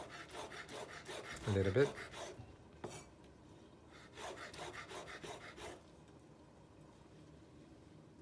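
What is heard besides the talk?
knife slicing vegetables into thin slices on cutting board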